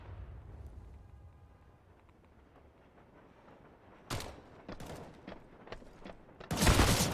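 Counter-Strike gunfire during a professional match duel on the Train map: after a quiet stretch, sharp close gunshots crack in short bursts, then a dense, loud volley at the end.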